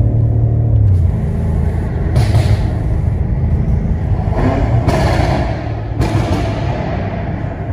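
A tuned BMW M5 making 850 to 900 horsepower with a Remus exhaust drives through a tunnel, its engine rumbling loudly and steadily with a few sharp surges and echoing roar throughout.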